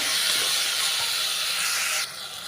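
Tomatoes sautéing with salt in a pan for a potato paya curry, giving a steady loud hiss of sizzling that drops a little quieter near the end, with no voices.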